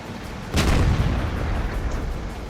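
A tank cannon fires once in World of Tanks: a sudden heavy boom with a deep rumbling tail that slowly fades, with no talk over it.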